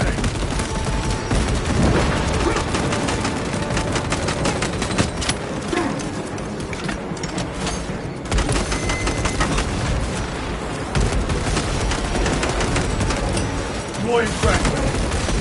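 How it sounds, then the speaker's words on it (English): Frag grenade blasts and rapid gunfire in the video game Space Marine 2, dense continuous shooting with heavy booms layered over in-game voices and combat chatter. "Throw your frag grenade."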